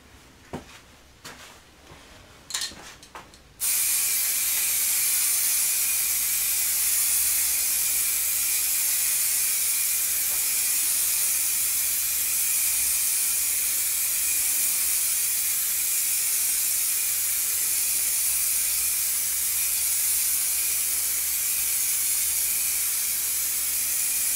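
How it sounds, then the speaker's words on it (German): A spray paint can hisses steadily and loudly while coating a licence plate holder, after a few brief knocks and handling sounds at the start; the continuous spray runs uninterrupted to the end. "Wenn ihr durchsprüht, dann könnt ihr auch ruhig drüber halten."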